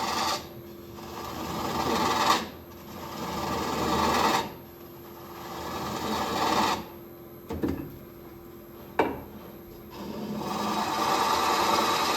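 A hand tool shaves end grain wood during Japanese-style turning, making close, rasping scrapes in several long strokes separated by short pauses and occasional sharp ticks.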